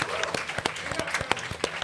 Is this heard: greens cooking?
no